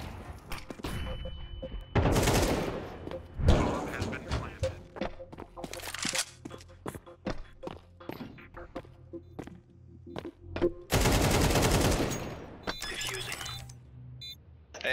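Gunfire in Counter-Strike 2 on the Nuke map: loud bursts of automatic fire and sharp single shots come in clusters, with a player talking over the action.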